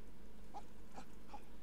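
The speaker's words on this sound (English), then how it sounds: "you could deal with a moody dog for one." A moody dog in The Sims 4 lets out three short, soft whimpers, evenly spaced, over a quiet low background hum.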